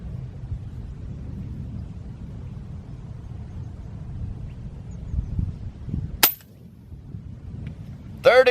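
Airgun shots fired at a 200-yard target at a long-range contest: two sharp, loud cracks stand out over low outdoor rumble, the second near the very end.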